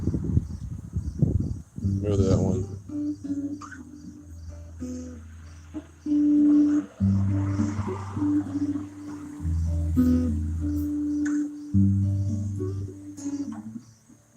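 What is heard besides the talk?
guitar played in DADGAD tuning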